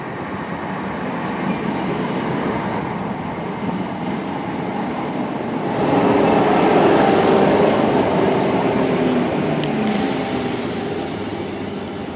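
A Class 319 electric multiple unit pulls into a station platform, a steady rumble of wheels and motors that swells midway and then settles, with a brief high squeal near the end.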